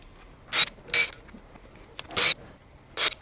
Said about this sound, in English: I'm going to use the impact to get it off.